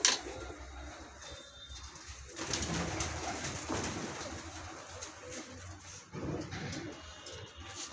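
Pigeons cooing softly nearby in repeated low, rolling calls over a quiet background, with no talking.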